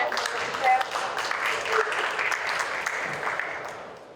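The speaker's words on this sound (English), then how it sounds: "So let's applause for George and Mr. Chair" An audience at a vegetarian congress in Dubai applauds a speaker, a moderately dense clapping that swells briefly and then slowly fades, with some voices mixed in.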